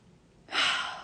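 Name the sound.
deep breath in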